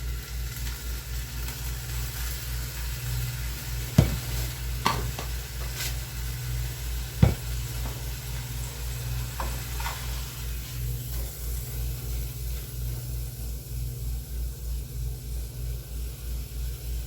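Beef roast browning in a hot pan for birria, giving a steady sizzling hiss throughout with a low constant hum and a couple of sharp clacks near the middle.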